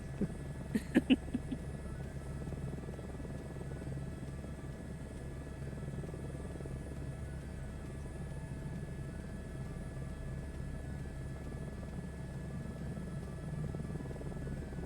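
Airbus H125 helicopter in flight over Wales, a steady droning rotor and engine rumble heard from inside the cabin throughout, with a few brief clicks near the start.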